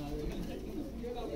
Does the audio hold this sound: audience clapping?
no